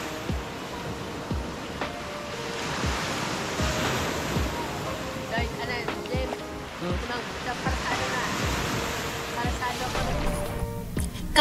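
Steady roaring ocean surf and gusting wind wash over a beach continuously, with people talking faintly underneath the constant rush of water.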